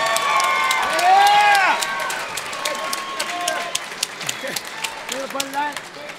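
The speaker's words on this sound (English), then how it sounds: "let's have a nice round of applause for both brawlers" A boxing crowd at the Cheyenne Ice and Events Center in Wyoming applauds both fighters, with scattered claps mixed with loud shouts, whistles and voices that rise early and then thin out.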